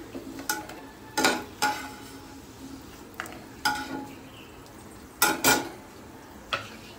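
Fried capsicum, tomato and other vegetables for navaratna korma are scooped from a pan into a bowl, with a series of soft scraping and clinking strokes of a spoon against metal spaced a second or two apart in a quiet kitchen.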